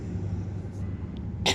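Quiet room hum, then one sharp, explosive cough at the end, short and close, from someone with a hoarse throat.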